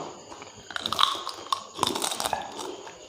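Close-up eating of spicy Thai papaya salad (som tam) with soft fermented rice noodles and crispy fried fish, with wet chewing, scattered crunchy bites and small mouth sounds at close range, no talking.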